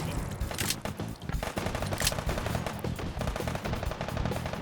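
Dense, continuous gunfire in the H3VR virtual reality shooter, with rapid overlapping shots and bursts sounding like a sustained fusillade, loud and unbroken throughout.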